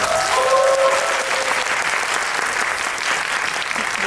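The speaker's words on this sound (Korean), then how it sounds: "다시 한번 박수 부탁드립니다." Audience applause at a Korean film screening and Q&A event for High Five, dense steady clapping from a large crowd filling the room, with a brief faint tonal sound early on and no talk.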